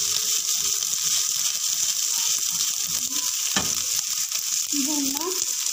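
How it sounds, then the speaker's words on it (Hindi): Ginger garlic paste frying in desi ghee, a loud continuous sizzle and hiss with a few spoon scrapes and a brief clatter midway. "चम्मच लिया हमने देसी घी, इसमें डाला अदरक लहसुन का पेस्ट"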